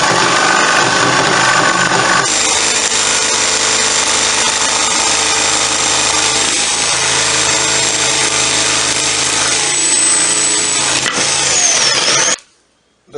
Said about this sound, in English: I use a jigsaw to cut the round circle of the table.